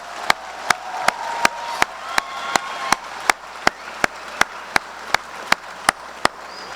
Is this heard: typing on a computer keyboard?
no